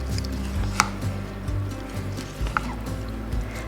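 Roasted vegetables being stirred by hand with pepper and dried parsley in a home kitchen: soft, irregular scraping and squishing with a few sharp clicks of a utensil against the bowl, close and quiet over a low steady hum.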